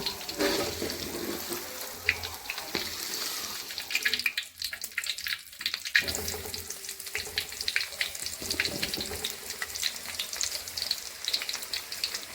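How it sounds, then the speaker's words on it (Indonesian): Tofu fries in hot oil with a dense, continuous sizzle and crackle, loud and close, briefly dipping before the bubbling resumes, with no talk. "Lakukan hingga tahunya digoreng semuanya"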